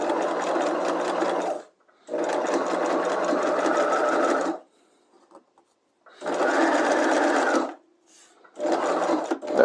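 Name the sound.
sewing machine stitching a fly front zipper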